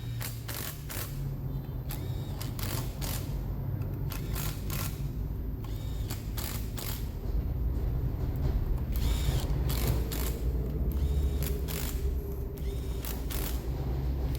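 Bolts being fitted on a motorcycle's CVT cover, rapid ratchet clicking in repeated bursts over a steady background hum, close and moderately loud, with no talking.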